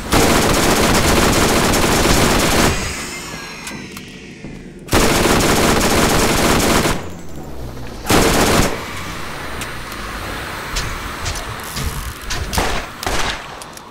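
Gunfire in the Borderlands video game erupts in loud sustained bursts of rapid automatic shots, broken by short pauses and a few sharp single blasts and thuds, with no talking.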